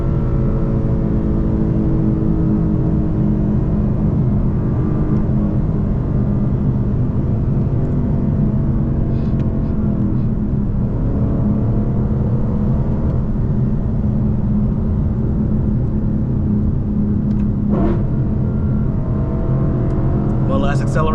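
Lexus LC 500 accelerating along a downhill road, heard from inside the cabin: a steady loud engine and road drone that rises gradually, with a person talking over it.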